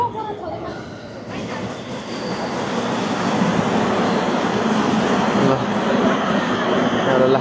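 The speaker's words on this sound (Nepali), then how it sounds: "अहिले चाहिँ हामी ट्रेनमा छौँ कोरियाको ट्रेनमा" Inside a Korean train in motion, a loud, steady rumble of wheels and carriage with faint rail clatter building over the stretch, with people talking now and then.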